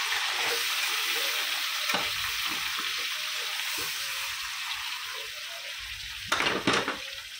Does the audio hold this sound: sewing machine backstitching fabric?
no